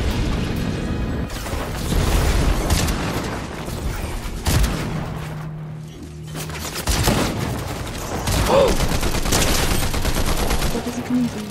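Bursts of automatic gunfire in a video game, loud and repeated, with a short lull in the middle, as voices talk over it.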